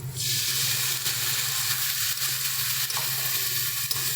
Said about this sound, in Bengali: এবার মধ্যে আমরা পরিমাণ মতন জল দিয়ে দিচ্ছি